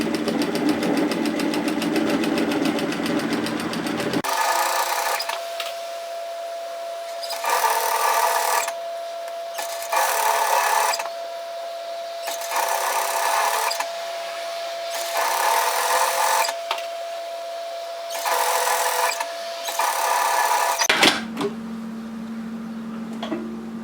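A sewing machine stitches a knit raglan top in several rapid bursts of mechanical whirring and ticking, separated by short pauses, close and steady with a faint hum between runs.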